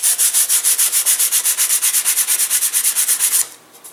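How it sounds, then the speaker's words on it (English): Sandpaper rubs back and forth on the wing of a catapult glider in a fast, even rhythm of about eight strokes per second, close and loud, then stops abruptly. "You're going to sand that flat in there all the way around."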